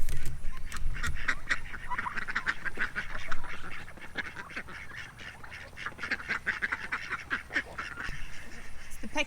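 A flock of male ducks quacking loudly and repeatedly in overlapping bursts, with the scuffling calls of a fight among the drakes, close by and continuous throughout.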